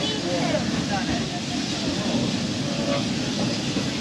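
A theme park train ride, with a continuous rumble and rail clatter from the moving cars and a person talking over the steady, fairly close noise.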